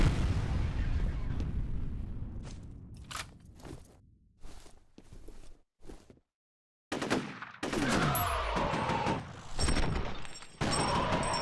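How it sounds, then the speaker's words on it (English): In the shooter game F.E.A.R., a grenade goes off with a loud, heavy blast, among rapid gunfire bursts, footsteps and stretches of near silence. "Oh, grenade out, he said."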